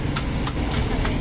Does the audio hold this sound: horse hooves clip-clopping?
yes